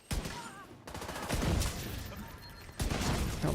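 Rapid, loud hand cannon fire in The Division 2, with dense bursts of shots crackling almost continuously and a brief pause before the volley resumes.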